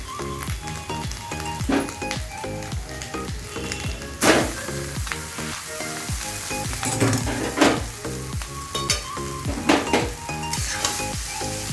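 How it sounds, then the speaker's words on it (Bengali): Chow mein noodles stir-fried with egg and vegetables in a pan, giving a steady loud sizzle broken by repeated scraping and clinking of a utensil against the pan, with no talking. "ডিমটা, সবজিটা আমার ভাজা ভাজা হয়ে গেছে। এবার এর মধ্যে আমি চাউমিনটা ঢেলে দেবো।"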